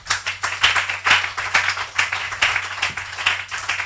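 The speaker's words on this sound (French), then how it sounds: "Donnez une main d'acclamation au Seigneur." A church congregation claps in a steady, brisk rhythm for several seconds, the dense clapping loud and close, with a low steady hum under it.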